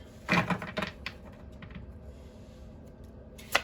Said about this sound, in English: I did pre-shuffle this deck for you, but I'm feeling called to do one more.